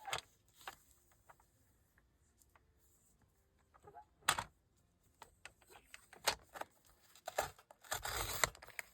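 Paper is cut and handled nearby during journal making: faint scattered snips and rustles, a few sharp tearing strokes, and a louder crinkling burst near the end, all quiet and close.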